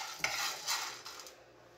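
Coffee beans stirred in a frying pan while roasting at home, a steady scraping and rustling with faint sizzle, moving in soft uneven strokes, close and alone.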